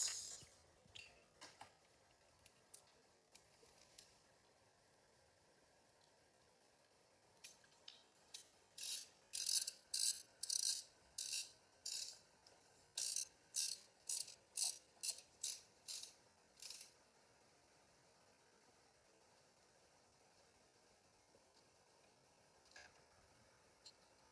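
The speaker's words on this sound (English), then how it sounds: "secure the clip in place with the Torx" A Torx key tightens the screw holding a nylon swing arm clip on a Prusa Core One+ 3D printer during a Bondtech INDX upgrade: a burst of about fifteen crisp, rapid ratcheting clicks, close and clear, with no talk.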